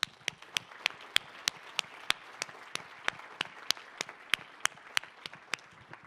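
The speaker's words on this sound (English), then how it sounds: "So a big applause for you for investing to share your perspective on this project." A few people in a consultation meeting's closing plenary clap at a steady rhythm, with sharp, separate claps spaced evenly over a quiet room.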